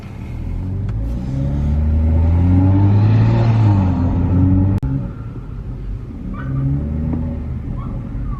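An engine rumbles steadily from inside a moving car as it swings through a U-turn on the road, the tone rising and falling gently, with a sharp click partway through.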